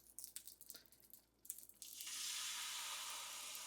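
Whole milk poured into hot caramel with a sudden, sustained loud hiss and bubbling sizzle after a few soft clatters.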